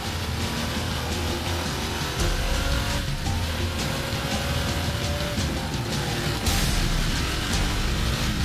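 A Ducati Multistrada motorcycle engine runs on a test rig in fourth gear at 135 km/h, a loud, steady mechanical roar with a sustained engine tone throughout.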